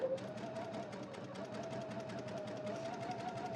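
Steady, faint whir of a sewing machine running a straight seam through faux leather, continuous and even throughout with no talk.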